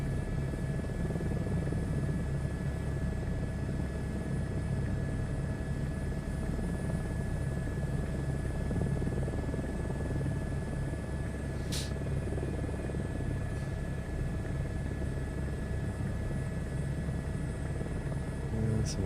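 Helicopter in Microsoft Flight Simulator 2024 flying steadily, a continuous loud rotor and engine drone with a constant whine holding for the whole stretch and one brief sharp click near the middle.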